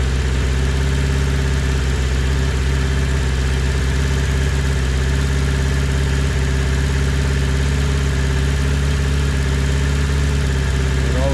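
Steady close idle of a 1980 Honda CB650 motorcycle engine starved as its fuel runs low, an unbroken low drone with a slight rev rise near the end.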